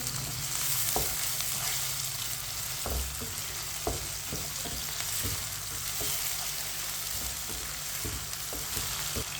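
Chicken pieces fry on medium heat in a pan with a steady, dense sizzle, while a spoon stirs them now and then, giving occasional scraping taps over the constant crackle, close and with no talk.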